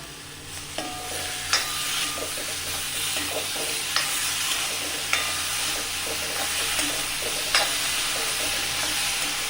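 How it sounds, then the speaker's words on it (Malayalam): Chopped ripe tomatoes sauté in a pan for a spicy tomato soup, giving a steady moderate sizzle with several sharp stirring clanks and scrapes of the utensil at irregular intervals. "ഇനി അതിലേക്ക് നമ്മൾ അരിഞ്ഞു വെച്ചിരിക്കുന്ന നന്നായി പഴുത്ത തക്കാളി അതിലേക്ക് ഇട്ട് കൊടുക്കാം"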